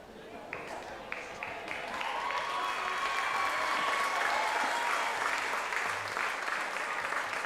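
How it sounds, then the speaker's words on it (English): Sideline spectators at a gridiron football championship game in New South Wales applaud and cheer, starting with a few sharp claps and swelling into sustained crowd applause with voices, under ongoing commentary. "The sideline cheering on their man."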